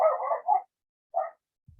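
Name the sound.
dog barking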